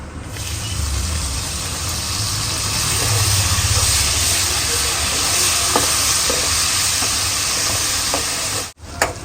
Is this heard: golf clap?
no